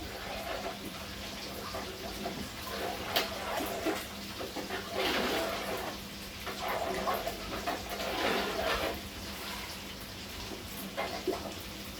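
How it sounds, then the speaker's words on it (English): Water poured into a cooking pot of benachin jollof rice with chicken and vegetables, a splashing, gurgling stream that swells and fades in uneven bursts over a faint background hum. "Now I'm going to add water."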